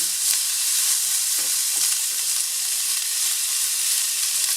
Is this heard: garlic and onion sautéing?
yes